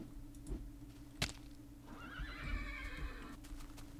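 A horse neighs in a video game, a loud drawn-out whinny that rises and falls over about a second and a half above steady low background hum and light ticking.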